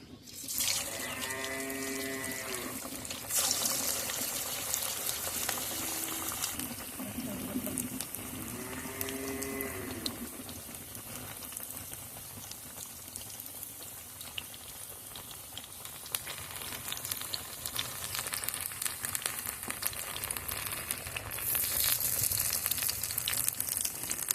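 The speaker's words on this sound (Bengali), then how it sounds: "তেল গরম হয়ে গেছে। এখন আমি একটা একটা দিয়ে ভেজে নেব।" A steady, dense sizzle of winter-vegetable fritters frying in hot oil runs throughout, with a few brief tonal hums and clinks near the start.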